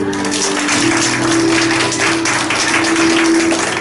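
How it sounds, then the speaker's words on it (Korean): A congregation claps at a Korean church revival service: dense, continuous, loud applause over a steady droning tone. "아버지 박수 주세요"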